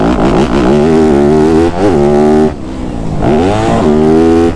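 A Yamaha YZ250F motorcycle engine revs hard and close, its loud buzzing tone climbing and falling through quick throttle blips, dipping briefly before rising again.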